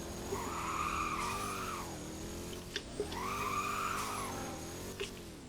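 Car drifting in the Roblox Driving Empire video game, with two long rising-and-falling tire skid squeals over a steady engine drone and a few small clicks, moderate and close.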